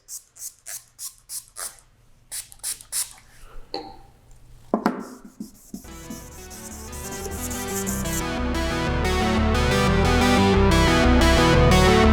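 Hand sanding of a car headlight lens with a restoration kit pad gives a series of short, rhythmic scrubbing strokes, followed by a steady, building dense rubbing sound that grows louder toward the end.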